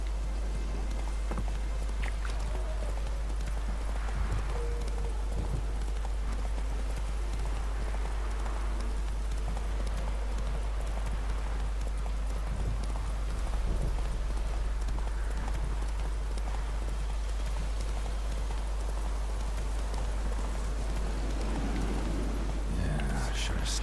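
Roach the horse gallops in The Witcher 3, hooves clip-clopping in a steady rhythm under constant ambient game sound, with faint voices now and then.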